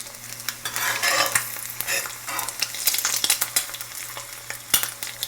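An egg sizzles and crackles in a hot frying pan, steady bright spitting with scattered pops and the light scrape of a utensil, close up and with no voices.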